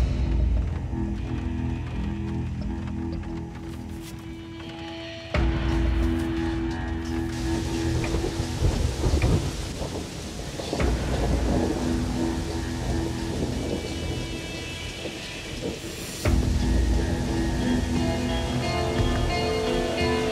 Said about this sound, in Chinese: 早知咁大雨咧